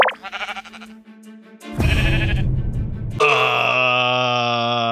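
Sheep in Minecraft gathered from a village bleat in a series of short wavering calls, followed by longer, louder sustained bleats close up, with no talking over them.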